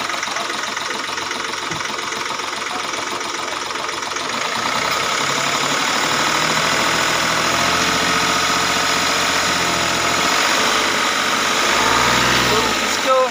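A Hyundai Xcent engine awaiting an overhaul runs loud and close with a rough, knocking idle and back compression, then rises in pitch as it is revved.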